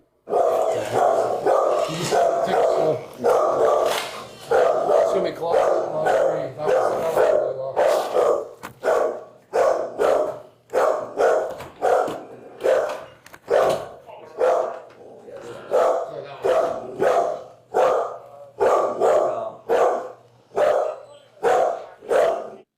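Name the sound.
dog barking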